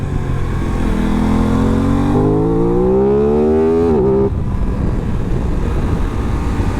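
An Aprilia RS 660 motorcycle engine revs hard and loud while being ridden, pitch climbing steadily through a gear before dropping at a shift, then settling into a steady drone under heavy wind rush.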